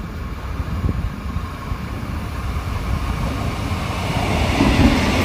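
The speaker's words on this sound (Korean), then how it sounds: "기차 정도가 아니라 거의 트램이네요" A coastal tram rolls steadily past along a seaside railway line, with a continuous rumbling roar and wheel clatter that swells slightly louder toward the end, close by and with no talk.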